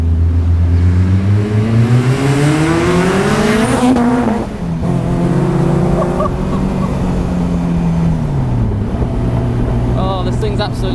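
A Caterham 620S sports car accelerates hard, its engine note climbing steeply through the gears with brief dips at each shift, loud and close throughout, and a voice speaks briefly over it.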